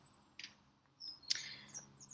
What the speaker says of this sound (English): I'm glad the bird song is beautiful.